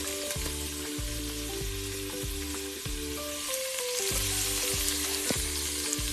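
Bacon and onion fry in a pot as the base for clam chowder, producing a loud, dense, unbroken sizzle with faint periodic tonal sounds in the background.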